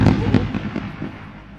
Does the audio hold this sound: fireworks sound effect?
yes